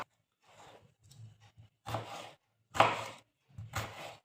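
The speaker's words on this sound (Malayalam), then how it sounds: "നമുക്ക് ചെറുതായിട്ട് അരിയണം." A knife chops apple, mango and plum into small pieces on a board, several separate firm cuts at an uneven pace, close and clear with quiet gaps between them.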